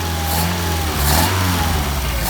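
A Solex moped engine runs at steady idle with a low, continuous putter and slight swells in revs, close and fairly loud, with no talking.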